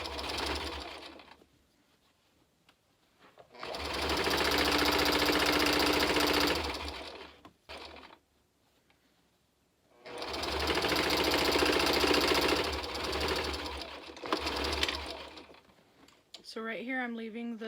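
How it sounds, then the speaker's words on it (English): A sewing machine stitching fabric for a clown Lolita outfit runs in two long, steady, loud buzzing passes with a pause between them, and brief handling noises and a short voice come near the end. "And now I'm just sewing along another"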